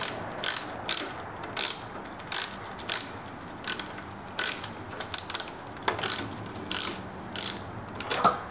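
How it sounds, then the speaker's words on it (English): A ratchet clicks in repeated short bursts as the intercooler clamps are undone on a Ford Fiesta ST. The bursts come close and fairly loud at a steady rhythm, with brief pauses between turns. "So now we're undoing the clamps for the intercooler."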